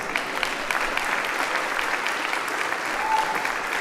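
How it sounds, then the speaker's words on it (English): A comedy show audience breaks into dense, continuous applause, a full room clapping steadily at an even loudness throughout. "Give him a big round of applause"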